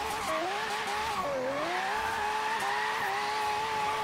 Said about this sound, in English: it's drifting, but it's not keeping the angle that I want